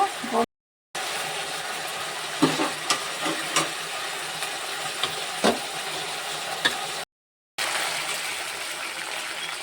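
Spiced water poured into hot oil in a pan while cooking desi koi fish, sizzling and frying steadily throughout, with brief stirring clatters and short gaps of silence.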